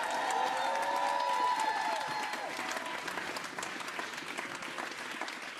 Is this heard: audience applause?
yes